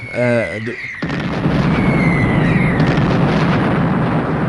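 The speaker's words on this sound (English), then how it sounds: "The mortar exploded, Grandpa jumped into a crater, and a bombardment began specifically targeting their position." An animated war scene: a mortar blast, then a sustained roaring artillery bombardment, loud and continuous with a low rumble. A short voice sounds just before the blast.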